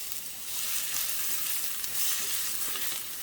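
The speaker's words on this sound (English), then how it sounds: "I'm going to add these onions" Half an onion sautéing in a pan for pecan and walnut tacos hisses in a close, steady, bright sizzle that holds evenly throughout.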